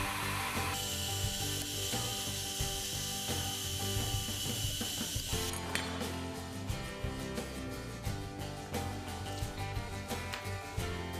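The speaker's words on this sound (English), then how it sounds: "Now it's time to drill a hole for the pivot." A drill grinds through a steel blank for a knife pivot hole, a steady high whine at first that changes to a dense run of rapid rasping ticks and chatter, close up with no talk.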